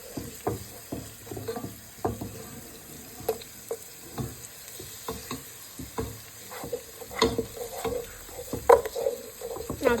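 Carrots and celery stir-fry for homemade cheese kottu, a light sizzle under repeated clattering scrapes and taps of a utensil stirring the pan, close and irregular.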